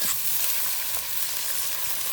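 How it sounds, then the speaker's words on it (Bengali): Onion frying in a kadai, a dense close sizzle with small crackles, steady and unbroken, no voices. "এই যে কড়াইতে দিয়ে দিলাম, পেঁয়াজটা দিয়ে দিলাম"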